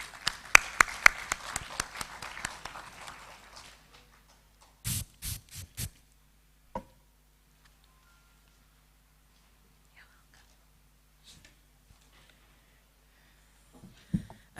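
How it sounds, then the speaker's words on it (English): Audience applause at the close of the 10th CPA Economic Forum, a dense burst of hand claps over the first few seconds that thins out and fades, followed by a few scattered taps and quiet room noise. "A hand clap, please."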